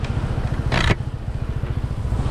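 A motorcycle on a road trip through Thailand rides along a drying road near Phang Nga, its engine a steady close pulsing rumble, with a brief burst of wind or scraping noise partway through.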